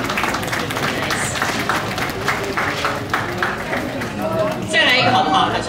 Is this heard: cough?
no